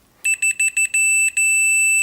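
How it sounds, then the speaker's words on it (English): Continuity buzzer of a Fluke 177/179 digital multimeter, a loud, clear electronic tone sounding in a quick series of short beeps and then in longer steady stretches, alone with no talk. "I've got it switched on to its continuity tester. So a nice clear loud buzzer on that."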